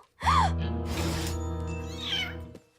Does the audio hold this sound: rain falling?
no